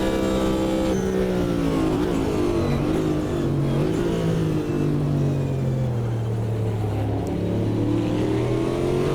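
Corvette GTP race car in Automobilista 2, its engine droning loud and steady with rising and falling pitch as it races, a rival Mercedes closing in, continuous and close with no talk.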